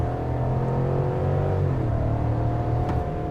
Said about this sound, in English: Now let's go ahead and test out the 0 to 60 performance of this truck.